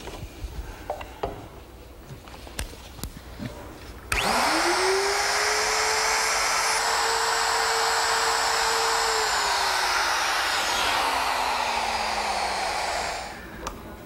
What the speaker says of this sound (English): Now the power tool will be the router, and I've installed a collar, and then it has a straight cutting spiral bit to remove the material.